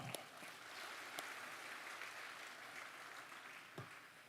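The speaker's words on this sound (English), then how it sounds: "Please give them the big round of applause." Applause from a conference audience for guests at an academic nursing conference, moderately faint, scattered clapping with a few sharper individual claps standing out against a roomy background.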